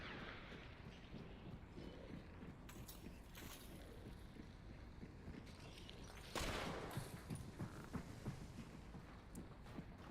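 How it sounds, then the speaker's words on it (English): Distant gunfire from a gunfight in a video game, a scatter of sharp shots and short bursts popping irregularly over a steady background of ambient noise, growing a little louder toward the end. "Looks like we may have stumbled into a gunfight."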